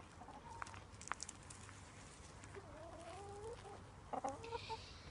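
Chickens cluck in short, scattered bursts in a large outdoor run over a steady low background hum, moderately near but fairly quiet, with a few sharper calls toward the end.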